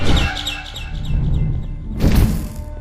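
Birds chirp and tweet in quick repeated calls in the horror game Garten of Banban 6, clear at first, then fading under a low ambient rumble before a brief louder burst of noise.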